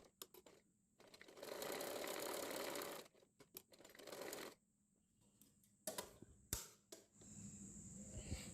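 A sewing machine stitching a belt onto girls' shorts runs in several bursts, a steady close whirring hum that starts and stops, with quiet pauses and small handling clicks between runs.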